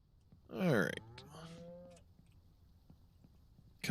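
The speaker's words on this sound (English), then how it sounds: "Cow was pissed about something." Cow in the farming video game Ranch Sim lets out one loud, drawn-out moo with a rising then falling tone, followed by a quieter trailing low, with no talk over it.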